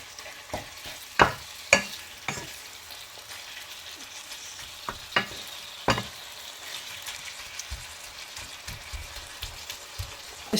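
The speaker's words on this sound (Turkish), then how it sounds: "Pişmeye başlayınca karıştırarak kavurmaya devam ediyoruz." Food sautés in a pan with a soft, crackling sizzle, broken by sharp scrapes and knocks as a spoon stirs it now and then. No one speaks.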